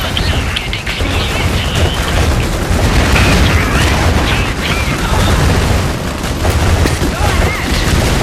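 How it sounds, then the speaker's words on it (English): In Iron Harvest 1920+, incoming artillery pounds the battlefield with loud, sustained booming explosions and scattered bursts of gunfire, a thick wall of battle noise lasting several seconds. "Artillery, take cover!"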